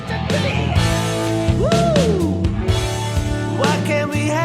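Electric guitar plays the interlude of a rock song as a rock lesson demo, sustained overdriven notes with a bending lead line over steady low chords, loud and continuous with no talking.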